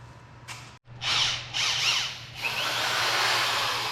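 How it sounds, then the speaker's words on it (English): A corded Power Fist 3/8-inch drive drill whirs loudly and close up in a garage workshop, revving in several surges before settling into a sustained steady run over a low hum. "Oh, but I have non-cordless drills, so all is not lost."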